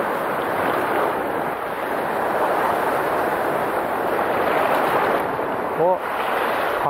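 Ocean waves wash steadily against a rocky shore where someone is fishing, a loud, constant surf roar mixed with wind buffeting the microphone, with one brief brighter sound near the end.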